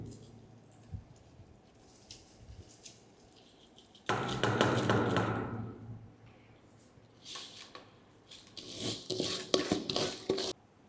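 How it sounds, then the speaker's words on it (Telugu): Rice is poured into a pot for Telangana-style bagara rice, making a loud grainy rush for about two seconds. Quieter stirring and pot clatter come before it, and later scraping and rustling follow. "ఇప్పుడు రైస్ వేసుకుందామండి."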